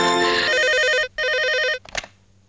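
A telephone in a Hindi film scene rings loudly nearby in two long electronic trilling bursts separated by a brief gap, then cuts off with a click as the receiver is picked up.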